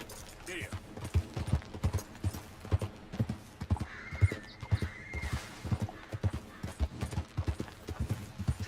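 In Red Dead Redemption 2, a horse's hooves clop in a steady close rhythm, and a whinny briefly rises mid-way over the footfalls, with faint talk underneath.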